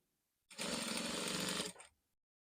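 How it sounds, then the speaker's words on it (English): A sewing machine runs in one continuous burst of just over a second, stitching a collar onto a jumpsuit at a 1/2 inch seam, a close, even mechanical whir that starts and stops abruptly, with no voices. "Starting from the front waistline, you attach the collar. I'm sewing with 1/2 inch."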